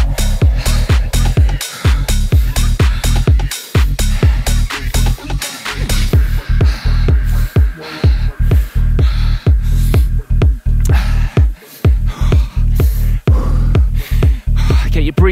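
Heavy, rhythmic breathing from a rider recovering after a VO2 max interval on an indoor bike during a HIIT workout, with loud, closely miked breaths repeating steadily for the whole stretch.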